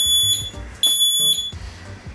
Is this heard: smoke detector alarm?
yes